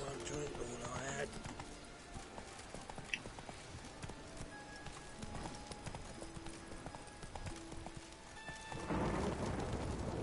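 Rain patters through a stormy scene in The Witcher 3 video game, with horse hooves clopping and a rumble of thunder rising near the end, all fairly quiet.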